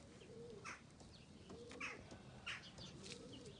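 Outdoor birds in high-pressure air, with pigeons or doves cooing softly and brief chirps and wing flaps scattered across a quiet, faint background, no talk.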